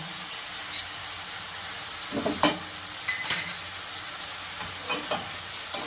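Garlic and tomato paste masala fries in a pan with a constant close hiss, broken by a few louder bursts of spatula scraping and spattering.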